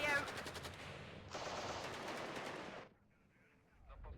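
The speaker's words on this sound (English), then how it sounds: "Oh, that's artillery." Gunfire crackles in the real-time strategy game WARNO, fast dense bursts of automatic fire that roll on for a few seconds, then cut off into quiet.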